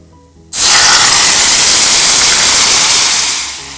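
Tamarind hits a hot pan with asafoetida and other spices, bursting into a loud, steady broadband sizzle after a brief quiet moment, then easing slightly toward the end.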